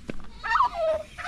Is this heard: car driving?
no